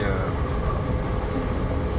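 A passenger train travelling from Paris to Normandy gives a steady, close, full-bodied rumble of the carriage in motion, continuous and unbroken throughout.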